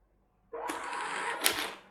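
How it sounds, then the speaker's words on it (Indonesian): A restaurant cashier's receipt printer prints a bill with a steady buzzing, whirring run of about one and a half seconds, close and fairly loud, ending in a brief louder burst just before it stops. "Printer mencetak struk bill."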